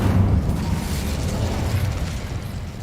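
A fire spell cast in Hogwarts Legacy, a steady low roaring whoosh of flames with rumbling bursts, loud and continuous for about three seconds with no talk over it.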